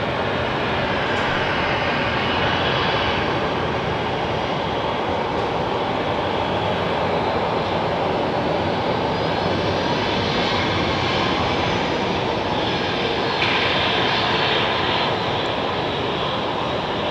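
An airplane in Top Gun livery taxiing fast at Sky Harbor International Airport, a steady loud engine roar and rumble lasting the whole stretch, with no talk.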